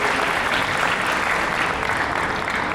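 An audience at a Miami small-business event claps steadily and continuously, a full, even wash of applause with no talking over it.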